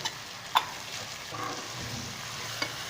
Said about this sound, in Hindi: अभी हम इसमें हरी मिर्च भी शामिल कर लेंगे ताकि हरी मिर्च भी साथ जो है थोड़ी फ्राई हो जाए।